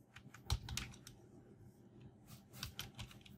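Keys clatter on a computer keyboard in quick uneven bursts, typing a name into an online passport payment form; the tapping is soft and fairly close, with no talking.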